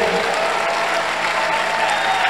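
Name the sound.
congregation applauding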